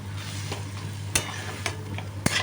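Cabbage with nuts cooks over lowered heat while being stirred in a pan. A faint sizzle sits over a steady low hum, broken by three sharp utensil clicks, with no talking.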